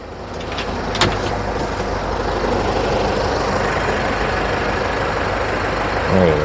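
Isuzu Spark 1.9 Ddi diesel pickup from 2018 running steadily at idle, a continuous low engine rumble at close range, with a brief knock and a slight rise near the end.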